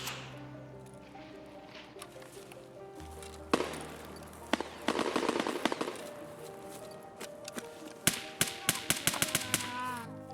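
Gunshots in the Escape From Tarkov video game: isolated sharp cracks, then clustered bursts of rapid shots at middle distance over a steady tonal background.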